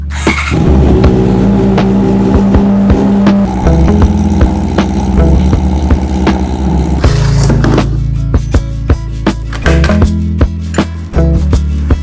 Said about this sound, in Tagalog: start muna natin siguro para uminit yung makina bago tayo magpalit ng langis